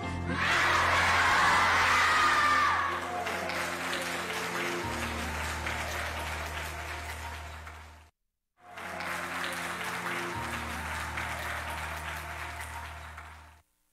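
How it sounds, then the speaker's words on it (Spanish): A crowd at a municipal event in Colima applauds in two long stretches separated by a brief silence, with steady clapping over a low sustained musical tone and an occasional cheer. "Fuertes aplausos, aplauso, por favor."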